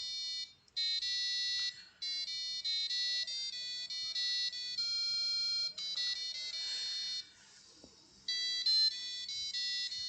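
A passive buzzer driven by an Arduino tone function plays a thin, high-pitched beeping melody of stepped notes, with short pauses between phrases, clear and alone.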